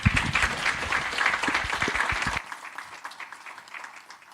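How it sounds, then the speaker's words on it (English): A conference audience applauds its panelists with dense, loud clapping for a couple of seconds, after which the clapping drops off and fades into quieter scattered claps. "a round of applause for our panelists"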